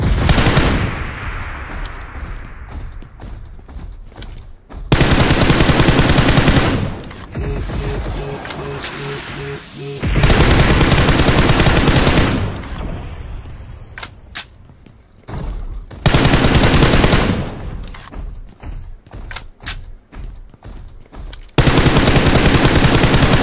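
Loud sustained bursts of automatic gunfire in a shooter video game, repeating in several long sprays with short mechanical clicks and quieter gaps in between, with no voices.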